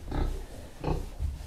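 Landrace pigs in a barn give deep, loud grunts in three close bursts, the first two longer and the last short, with no talking.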